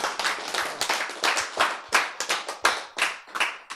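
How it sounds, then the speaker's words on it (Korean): A small audience at a Korean health lecture on cancer treatment claps in a brisk, uneven burst of distinct hand claps, close and fairly loud, with no talking over it. "박수"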